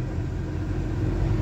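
A loaded Leyland lorry strains up a slope on a mine-area road, its engine giving a steady, continuous low rumble and drone at close range with no voices over it.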